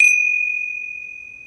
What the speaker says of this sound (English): I'm going to open and close the puja with a gong.